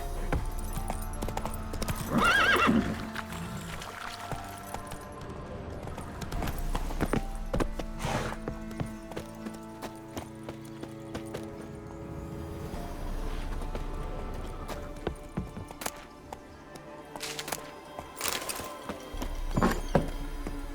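Hoofbeats of a horse ridden at speed in The Witcher 3 Next Gen, a steady clip-clop rhythm with a brief neigh near the start, set against game ambience and music, loud and close throughout.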